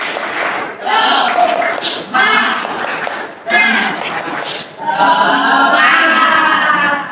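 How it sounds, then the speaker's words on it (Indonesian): A group in a classroom does a rhythmic spirit clap, loud bursts of clapping in several short rounds with voices shouting along between pauses. "1, 2, 3, tepuk semangat."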